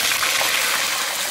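Hot oil spatters and sizzles hard as fish fries in a pan, a loud, dense, continuous hiss close by with no talking.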